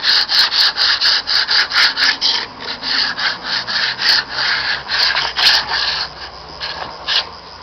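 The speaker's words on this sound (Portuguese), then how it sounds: "Lixa lá onde tá seco" Wood sanded by hand with sandpaper, a brisk continuous run of rhythmic scraping strokes, close and loud, with no talking over it.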